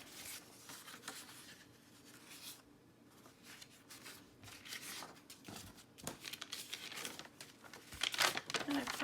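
Sheet of paper being folded in half for a digital craft project, soft crinkling and rubbing at close range over several seconds, growing louder toward the end, with faint background noise.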